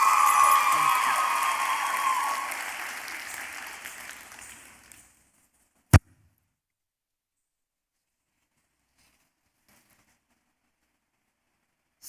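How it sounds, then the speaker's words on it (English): Applause from an audience at a Bharatanatyam arangetram dance recital: dense, fairly loud clapping that gradually thins and fades out over about five seconds, followed by silence and a single sharp knock. "One more round of applause for Riya."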